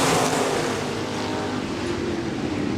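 USRA Ironman stock cars racing on the dirt oval at Park Jefferson Speedway, a loud roaring blend of engines as the pack passes nearby, fading slightly toward the end.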